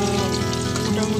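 Food frying in oil over low to medium heat until golden brown, a continuous bubbling sizzle heard close up through a short moment.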